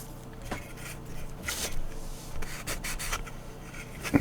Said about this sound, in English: As I'm sanding this now, you can start to see it.